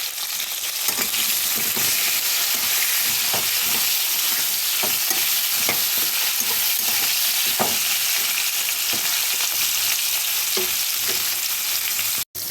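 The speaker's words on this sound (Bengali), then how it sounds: "একটু 1 চিমটি হলুদ দিয়ে এটাকে লাল করে ভেজে নেব।" Whole pointed gourds frying in hot oil with a little salt and a pinch of turmeric: a continuous, close sizzle with occasional stirring scrapes and small pops, no talking.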